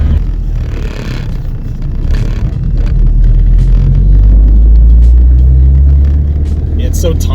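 Small car with a turbo pulling hard in second gear, a loud sustained engine drone rising in pitch as boost builds, heard from inside the cabin with people talking over it.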